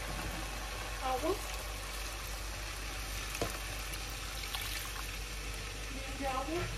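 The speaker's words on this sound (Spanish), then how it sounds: "Y ahora vamos a echar agua y perejil." Water is poured into a pot of lentils with vegetables and parsley, a continuous splashing wash with a brief voice heard faintly now and then.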